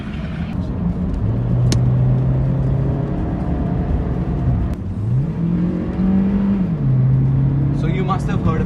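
A 2007 Honda Civic drives off and accelerates, its engine note rising and falling through gear changes with a steady hum up close, while someone talks over the engine.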